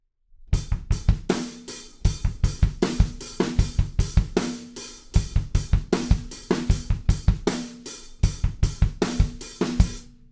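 Drum kit playing the verse groove of a song, sharp close-miked hits in a steady driving pattern with bursts of four rapid 16th-note kicks, loud and alone.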